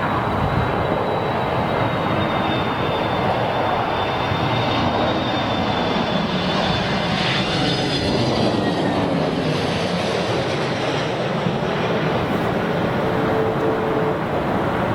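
A jet airliner arrives in strong storm crosswinds at London Heathrow, its engine roar steady and broad under constant wind buffeting, with a faint descending whine across the approach and no voices.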